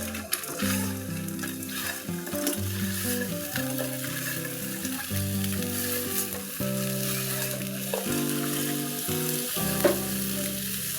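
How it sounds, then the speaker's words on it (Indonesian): Fried tofu with garlic, spring onion, chili and salt is stirred in a hot pan. A steady sizzle and scraping run for about eleven seconds under rhythmic background music, with no speech. "Kemudian kita aduk sebentar hingga semua bumbu tercampur rata."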